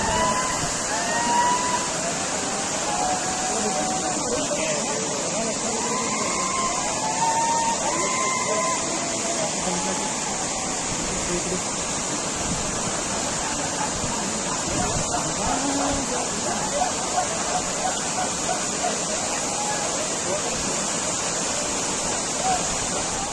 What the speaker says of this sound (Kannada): ಧುಮುಕ್ಕುವ ಜಲಪಾತದ ಕೆಳಗೆ ಯುವಕರು ಹೋಗಿ ನೆತ್ತಿಯ ಮೇಲೆ ನೀರು ಬೀಳುವ ಜಾಗದಲ್ಲಿ